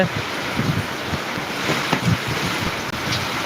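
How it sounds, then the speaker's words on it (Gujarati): Strong stormy wind buffets the microphone over a steady wash of heavy monsoon rain, loud and continuous throughout, in Mota Dalva village, Gondal taluka. "ધોધમાર સાથે પવન પણ જોરદાર ચાલુ છે"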